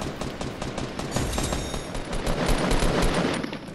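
Rapid bursts of automatic gunfire in Fortnite, dense and sustained with overlapping shots that swell and fade across the whole stretch, fairly loud with no talking.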